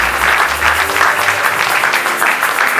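A church congregation applauds during a service, with dense, steady clapping from many people filling the room throughout, loud and close, with no speech over it.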